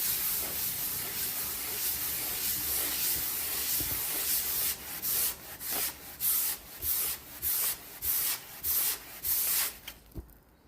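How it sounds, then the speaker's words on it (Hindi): A thermocol styrofoam sheet is rubbed with wool, first as a continuous scraping hiss, then as a series of about eight distinct, rhythmic close strokes, each a short burst of dry friction with brief gaps between. "अब हम इसको रब करेंगे वुल से"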